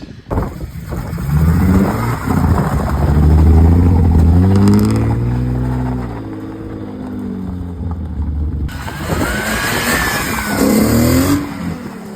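A BMW E36 320i engine revs through a new exhaust, climbing to a loud, throaty rise and falling away, then a second rev, close and alone without talk.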